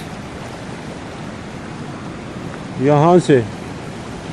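River water rushing along a channel toward a village water mill, a steady broadband roar with wind buffeting the microphone, and someone briefly speaking near the end.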